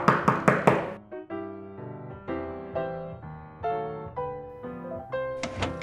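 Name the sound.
sound effect of knocking on a door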